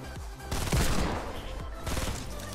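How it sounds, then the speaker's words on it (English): Gunfire in the video game Fortnite, including a hand cannon, comes as a short cluster of loud, close shots and bursts that overlap, with a faint voice underneath. "I just walk upstairs and get dropped by a hand cannon"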